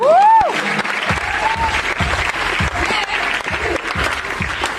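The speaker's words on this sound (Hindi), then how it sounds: "वाह, जोरदार तालियां." Enthusiastic applause at a seminar carries on as a steady burst of clapping hands from a group, opening with a short rising whistle or tone and punctuated by a few louder individual claps and faint voices underneath.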